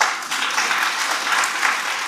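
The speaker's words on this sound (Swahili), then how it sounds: "Jipigieni makofi." An audience at an International Identity Day event in Homa Bay County claps in a dense, steady burst that lasts a couple of seconds.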